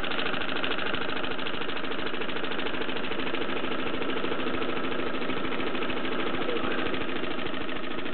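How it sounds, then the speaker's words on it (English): Rapid, even chuffing beats from a small Bowman M167 stationary steam engine run continuously and loudly, with a rough mechanical rattle underneath and no pauses. "it makes quite a satisfying chuffing sound"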